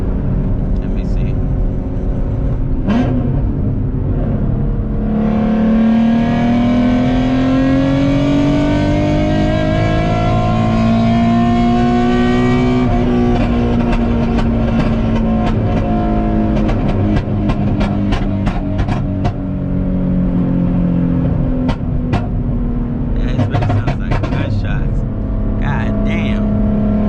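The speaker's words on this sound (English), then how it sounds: "Let me turn on my flame map so you guys can hear some flames real quick. Some pops." E85-fueled car with a flame map, its engine revving up and holding high before easing off, followed by a rapid burst of sharp exhaust pops and crackles on deceleration, loud and close, with some talk over it.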